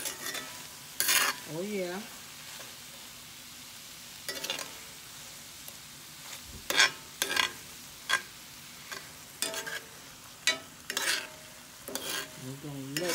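Meatloaf ingredients are worked together by hand in a bowl, with wet squishing and slapping bursts at irregular intervals and a brief spoken remark partway through.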